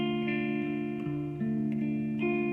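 Electric guitar through a Run Off Grove Supreaux Deux overdrive pedal, light overdrive breaking up like an amp, notes picked softly and sustained, a few gentle pick attacks ringing out clean and close.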